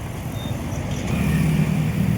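Road traffic with cars passing, a steady low engine rumble that swells slightly as a vehicle goes by, moderately loud and without speech.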